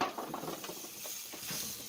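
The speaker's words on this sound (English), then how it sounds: "You hear that sizzling sound? That's what we want to hear." A soft, continuous sizzle with faint crackles and pops of potatoes frying in a hot baking pan in an oven preheated to 425, fairly quiet and close.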